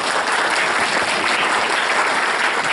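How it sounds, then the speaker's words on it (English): A room full of people applauding support team members at a weight-loss program info meeting, steady dense clapping throughout, loud and close, with no talk over it. "Give them a round of applause,"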